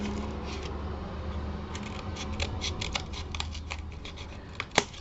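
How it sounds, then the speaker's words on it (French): Scissors snip along the edges of a card pouch in a recycling craft, a steady run of short crisp cuts with one sharper snap near the end, close and fairly quiet. "Donc, on va découper les bords."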